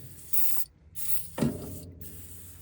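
Two short hissing bursts of penetrating oil sprayed from an aerosol can, close by, separated by a brief pause, with faint handling noise between them, on an abandoned AMC Rambler.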